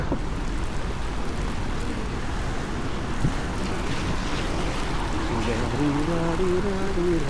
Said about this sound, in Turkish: Yağmur zaten yetiyor. Yeterince ıslatıyor şu an beni.